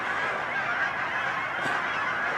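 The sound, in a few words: birds squawking outdoors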